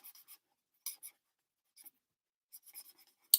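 A gnome greeting card is coloured in by hand, the pen or pencil giving soft, scratchy strokes in short separate bursts with pauses between them, close and quiet, with no talking.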